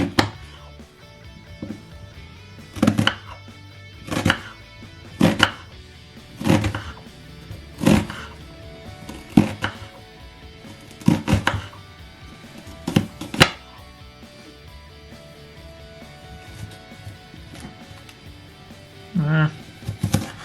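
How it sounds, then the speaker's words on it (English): An onion being chopped with a fairly small knife on a board, sharp irregular knocks in uneven clusters with gaps between, close by, with a person talking quietly in between. "Maybe I should learn how to cut an onion the right way."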